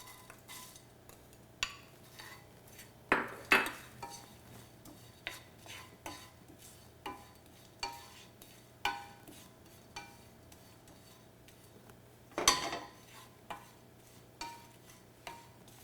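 Almonds tipped into a pan of golden toasted panko crumbs, then stirred, giving scattered light scraping and clinking taps with a couple of louder scrapes, alone and fairly quiet.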